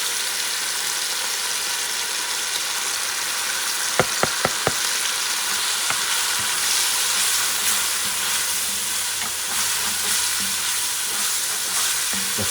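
Turkey neck fricassee ingredients mixed in a hot pan, heard as a dense continuous sizzle with a quick run of four light clinks of a utensil partway through, close and steady.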